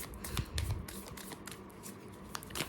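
A deck of tarot cards is shuffled by hand in quiet, with a run of soft riffling flutters and small slaps as a few cards drop out, close up and faint.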